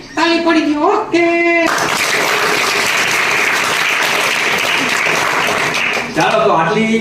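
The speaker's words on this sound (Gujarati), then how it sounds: "તાળી પડી ગઈ." Children at a school puppet show burst into loud, sustained applause lasting several seconds. A voice speaks briefly before the clapping and again as it fades.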